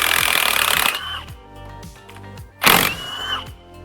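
A power tool works the CV axle bolts on a Nissan Armada, with a loud grinding burst, then quieter rattling, and a second sharp burst of impact hammering up close.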